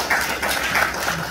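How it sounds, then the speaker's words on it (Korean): An audience at a seminar welcomes a speaker with a short, dense burst of applause, a steady wash of many hands clapping together throughout. "여러분 우리 윤경희 박사님에게 힘찬 박수로 환영해 드리겠습니다"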